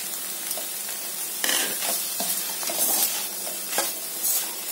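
Goat blood fry with grated coconut being stirred in a pan on the stove, a steady sizzle broken by scraping stir strokes, loud and close with no talking.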